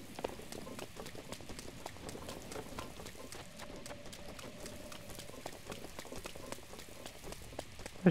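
Steady rain in the video game Zelda Breath of the Wild patters softly and continuously, a faint even hiss with scattered droplet ticks and light footsteps, no talking.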